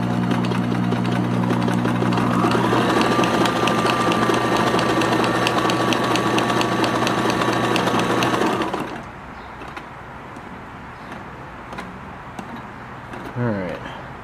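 A Kenmore 1813 sewing machine runs loud and close for about nine seconds, a fast even mechanical whir with a clear motor tone, then stops, leaving faint handling sounds.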